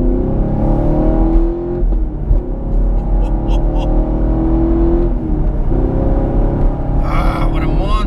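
A Chevrolet Camaro SS 1LE with a naturally aspirated 6.2 liter V8 roars steadily and loudly, its deep engine note rising and falling slightly over several seconds, with a voice talking faintly underneath.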